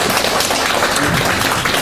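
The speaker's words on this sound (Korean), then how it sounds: "우리 수고하신 선배님들한테 박수 한번 주세요" An audience claps together for senior students at a university admissions talk concert, a dense, steady burst of applause filling the room from start to finish.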